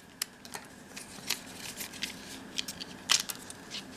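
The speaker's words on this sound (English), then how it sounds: "I need to cut it from back here." Scissors cut a sticker away from the back of packaging, giving sparse, quiet snips and clicks with the loudest cut near the end, with no talking.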